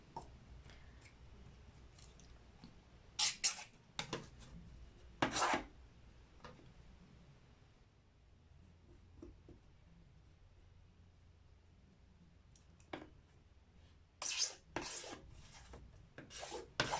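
Scissor points scratching an acrylic plate for drypoint engraving, heard as bursts of sharp rasping strokes, several clustered near the start and a denser run toward the end, with quieter scraping in between.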